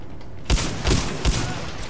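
Gunfire in Titanfall 2: three loud, close shots ring out in quick succession, evenly spaced about half a second apart.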